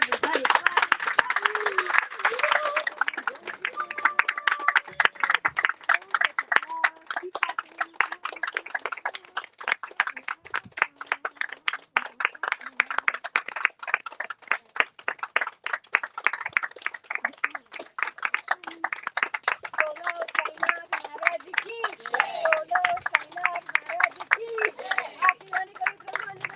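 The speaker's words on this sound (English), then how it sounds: "Everybody clap." Audience clapping hands in time during a fire homa ceremony, a steady rhythmic crowd clap continuing throughout at moderate loudness, with voices mixed in.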